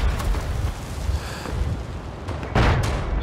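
A grenade bursts in the World War I shooter Verdun, a dull, muffled boom rising out of a rumbling battlefield bed, with another sharp, brighter blast close by near the end and no talk over it.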